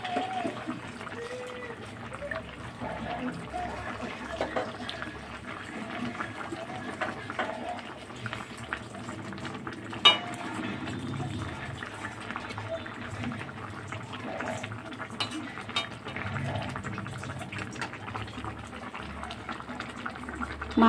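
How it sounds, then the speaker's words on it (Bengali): Fried prawns simmering with eggplant in a curry, a low continuous bubbling and burbling of liquid in the pot, close and steady throughout. "মাছটা দিয়ে আবারও আমি মিনিট 5-6 মতন একটু সবজির সাথে সেদ্ধ করে নেবো মাছটাও"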